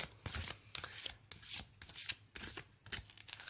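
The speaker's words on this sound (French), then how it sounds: "Alors, on va se tirer 3 cartes." Guidance cards being shuffled and drawn from a deck, a run of quick riffling, flicking bursts with short pauses between, close and fairly quiet.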